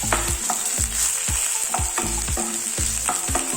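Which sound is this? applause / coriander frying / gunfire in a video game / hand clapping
coriander frying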